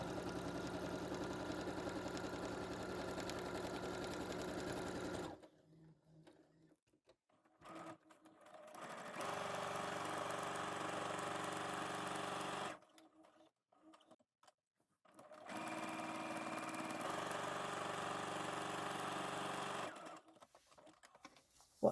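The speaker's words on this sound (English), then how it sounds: "I'm running this guide along my original centre line stitch line." A sewing machine stitches quilting stripes through layers of foam stabiliser in three steady runs of rapid, even whirring, separated by short quiet pauses, close and clear with no talking.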